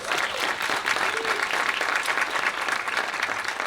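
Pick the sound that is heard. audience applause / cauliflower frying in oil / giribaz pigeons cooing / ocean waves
audience applause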